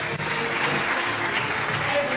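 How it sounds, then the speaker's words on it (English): An audience at a stage show in the Primrose Valley holiday park claps as a performer leaves the stage, a fairly quiet and even wash of applause with no voices standing out. "give her a nice round of applause."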